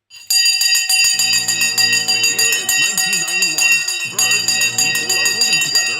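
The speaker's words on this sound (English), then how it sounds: "The bell has gone." A stock market bell rings out loudly after a countdown and keeps sounding with a bright, sustained metallic tone, while a voice speaks over it and a second strike lands partway through.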